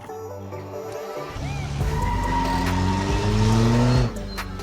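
Modded Gavril Vertex car in BeamNG.drive with a tuned exhaust and shorter final drive, its engine revving up loudly and steadily in a rising drone, with tire noise beneath it.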